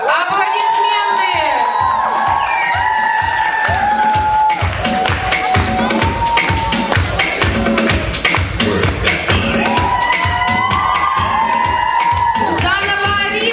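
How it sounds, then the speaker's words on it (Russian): A large crowd at a children's camp pageant cheers and claps loudly and continuously, with shouts and whoops rising over the steady applause throughout. "Аплодисменты."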